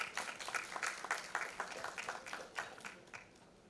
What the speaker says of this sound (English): Can we have a huge round of applause for Mr. Sumit Mukherjee?